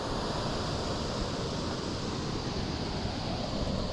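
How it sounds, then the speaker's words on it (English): Steady, dense roar of a foaming waterfall heard up close, a continuous broadband rush of falling water with no voices. "All this foam that's coming off the waterfall."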